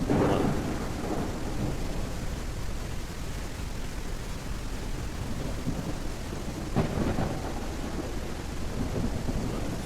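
Thunderstorm in the video game No One Survived: constant heavy rain with low rolling thunder, a louder crack near the start and another rumble later, steady and enveloping.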